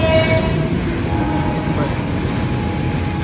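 A train sits halted at a signal near Mumbai CST, giving a steady low rumble and hiss of the stationary carriages, with a faint high tone at the start.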